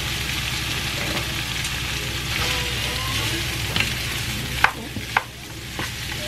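Freshly cut meat fries in a pan with a steady, close sizzle, and a few sharp clinks and scrapes of stirring stand out near the end. No one speaks.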